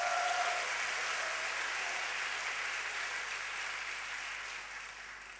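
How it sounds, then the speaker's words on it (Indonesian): Church congregation applauding in a broad, sustained wash of clapping that slowly fades, heard from a distance in a large worship hall. "Berikan tepuk tangan buat Yesus."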